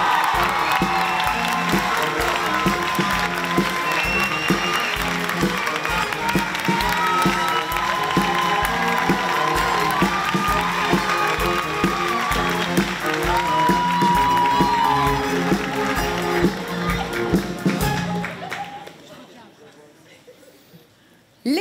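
A large audience at an awards evening applauds and cheers steadily, loud and sustained, with whoops mixed in, before the clapping dies away near the end.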